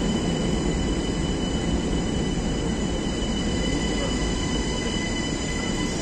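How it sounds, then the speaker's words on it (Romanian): A Brussels train or metro rolls along with a continuous loud rumble, its wheels giving off a sustained high squeal above the broadband roar, with no talk. "Destul de scurt trenul."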